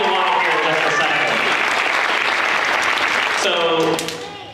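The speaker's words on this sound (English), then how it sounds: "can we all give Bree a round of applause really quickly?" Audience applause at a school fall band concert, a full sustained round of clapping with voices mixed in, fading out at the end.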